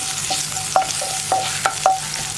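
Green chillies sizzle in a pan with rhythmic stirring, a soft frying hiss broken by repeated spatula scrapes against the metal about every half second, close by, with no voices.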